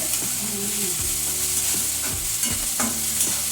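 A homemade vegetable dish fries steadily in a pan with a constant hiss and sizzle, while a spoon scrapes and stirs it in several distinct passes, close and clear.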